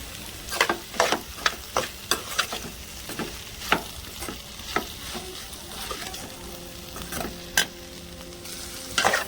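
Okra sizzles and fries in a pan for a village-style curry, with a spoon scraping and stirring in repeated close, sharp strokes over a steady crackling hiss; no one speaks.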